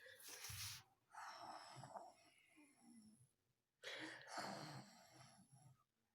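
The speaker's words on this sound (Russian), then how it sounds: "Как храпит мой сыночек" A sleeping baby boy snores in two long, raspy, wheezy bursts separated by quiet pauses, close but soft, with no talking over the breaths.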